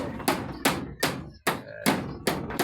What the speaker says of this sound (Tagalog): O, titikoon mo na naman ang pako.